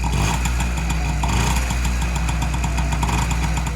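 A Honda Motocompo 49cc oil-injected two-stroke scooter idles while warming up, a steady, close, buzzing putter that holds an even rhythm throughout with no talking.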